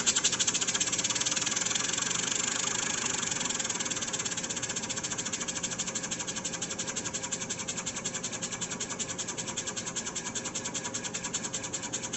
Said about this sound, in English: steam engine that transmits power to the generator, which lights the street lamp